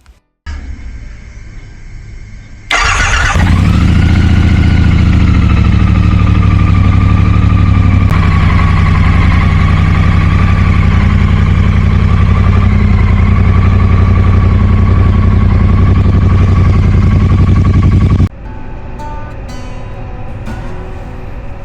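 A 2025 Triumph T120 motorcycle engine catches and holds a steady, deep rumbling idle for about fifteen seconds, loud and close, then settles to a softer running note near the end. The bike has a welded-in catalytic converter.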